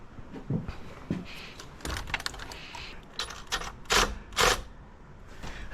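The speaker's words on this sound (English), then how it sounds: "I like these gearless ratchets" Bolts on the EGR cooler of a Fiat Doblo 1.6 MultiJet are tightened with a gearless ratchet, giving close, irregular metallic clicks and scrapes in short bursts, with soft handling noises between them.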